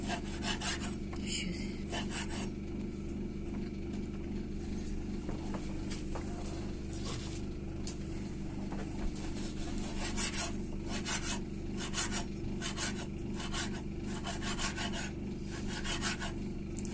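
Knife slicing through salted pork fat (salo), a repeated rasping, scraping cut heard in rhythmic strokes over a constant low hum, close and fairly loud with no talking.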